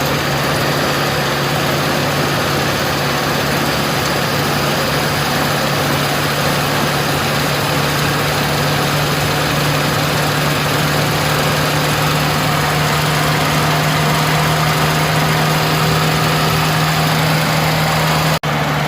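A petrol engine idles steadily after its carburetor air-fuel mixture has been adjusted, a loud, even, close hum with a constant low throb and no talk.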